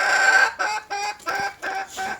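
Two small Coucou hens give a run of close, repeated clucks and short calls in steady bursts, loud and alone.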